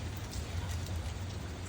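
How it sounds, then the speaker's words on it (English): Steady rain falls all day on a farmyard, a dense even patter with a low rumbling undertone, continuous and fairly close, with no talking. "it's been raining all day"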